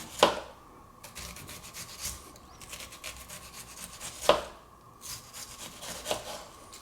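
A knife cuts an onion on a cutting board, giving soft rubbing, scraping strokes with a couple of sharper knocks as the blade reaches the board, close and quiet.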